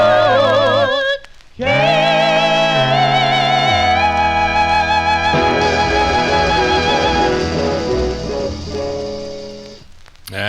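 A 1956 doo-wop 45 rpm record plays, with sung harmony vocals and backing music in a sustained phrase that holds and slowly fades toward the end.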